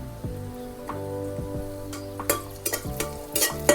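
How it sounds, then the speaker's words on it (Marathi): Garlic and green chillies fry in a pan while a spoon stirs them, giving a soft continuous sizzle under sharp scraping and clinking strokes that come more often toward the end, with a steady hum in the background. "लसूण पण परतले आता हिरव्या मिरच्या टाकून घेते"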